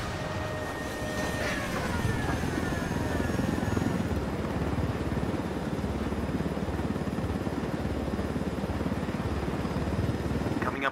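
Helicopter in the video game Ghost Recon Wildlands, a loud steady rotor thrum and engine roar that holds throughout at close range, with faint voices in the mix early on.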